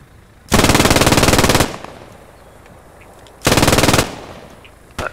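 Two loud, close bursts of rapid automatic machine gun fire in the World War II shooter game Post Scriptum, a long burst then a shorter one with a quiet gap between, and a brief third shot starting at the end.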